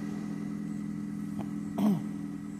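Steady idle of a 2013 Dodge Avenger SE's 2.4 liter four-cylinder engine, an even low drone broken by a brief click and a short sliding chirp near the end.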